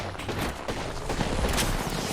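Dense, continuous gunfire from a shooter video game roars in a loud, unbroken volley with no gaps between shots.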